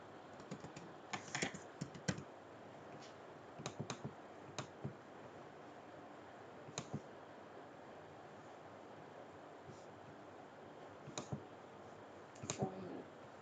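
Intermittent bursts of computer keyboard typing as data is entered into a database form, with short clusters of keystrokes separated by pauses against a quiet room background.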